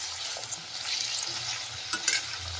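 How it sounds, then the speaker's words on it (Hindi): Potatoes fry in a pan with a continuous soft sizzle, stirred with light scraping and a couple of brief utensil knocks near the end, heard up close without talk. "ये मैं आलू फ्राई कर रही"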